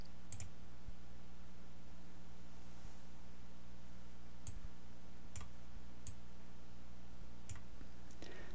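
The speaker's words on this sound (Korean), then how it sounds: "시뮬레이션 실행 버튼을 눌러보도록 하겠습니다" Sparse, sharp mouse clicks pressing the simulation run button in LS HMI software, four or five isolated taps spaced over steady electronic hum and hiss, no talk.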